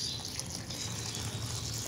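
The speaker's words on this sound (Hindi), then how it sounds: "ये फीड ली उसके अंदर ना ऐसे पानी डाल दें" Water is poured into a container of chicken feed for backyard desi hens, a quiet, steady trickling and splashing that runs through the whole two seconds without any talk.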